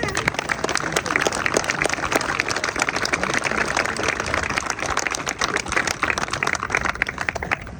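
An audience at a structural design and fabrication open house gives a long round of applause for Frank Cacaval, a dense continuous patter of many hands clapping, steady and loud throughout.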